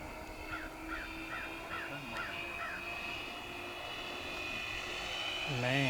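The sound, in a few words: RC B-25 Mitchell bomber model flying past at half throttle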